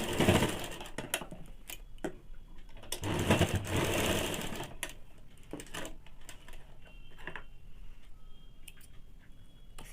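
A sewing machine stitches the seam of baby panties with elastic inside, a close, rapid mechanical chatter that runs loud early, then continues more softly with small clicks.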